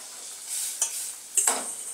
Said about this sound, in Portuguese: Então, vou esperar dar uma fritada aqui.